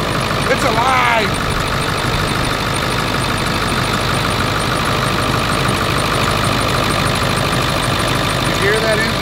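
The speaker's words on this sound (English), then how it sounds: "You hear that engine knocking?" Close, loud 7.3 diesel truck engine idling with a steady rhythmic knock, the clatter running continuously, with brief voices over it.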